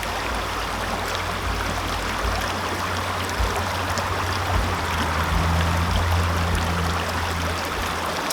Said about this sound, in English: it's going to take probably a good 5 or 6 seconds before the water starts coming through it